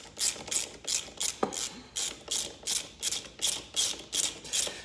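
Socket ratchet wrench backing out the last bolt on a KTM SX-E5 electric motorbike battery: a steady train of close, crisp pawl clicks in regular rhythmic bursts about twice per second, with one brief knock partway through.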